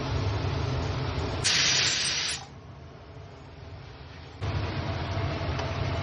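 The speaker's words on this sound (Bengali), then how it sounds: "এরপর পেস্ট করা মশলাটা দিয়ে দিচ্ছি। ভালো করে মশলাটা কষিয়ে নেব।" A masala paste of onion, tomato and ginger fries in a pan for mutton, giving a loud, even sizzle up close that swells sharply for a moment, dips, then returns steady, with no voices.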